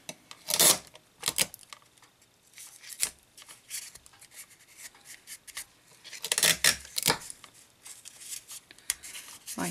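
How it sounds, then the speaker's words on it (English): Tape is pulled and pressed down on the parts of a small handmade 1:6-scale sleigh, giving quiet, close bursts of ripping and rubbing separated by near silence. "I'm going to take my tape and tape it down"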